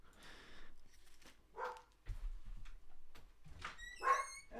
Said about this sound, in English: Apologies if you can hear the dogs.